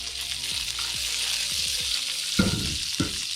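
Food frying with olive oil and salt in a pan, a constant loud hiss with clattering scrapes and two sharper stirring bursts near the end, close up, no talking.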